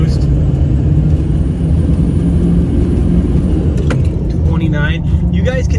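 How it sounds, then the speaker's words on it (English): A Duramax diesel truck engine rumbles with a thin, high whine from its newly installed RDS turbocharger spooling above it; a voice speaks briefly near the end. "You guys can hear the turbo."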